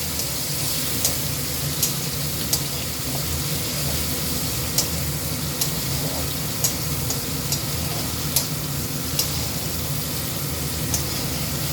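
Vegetables hit hot oil and are stirred while cooking an alu shak curry, giving a steady, even sizzle with occasional sharp ticks from the spatula throughout.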